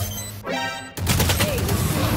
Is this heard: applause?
no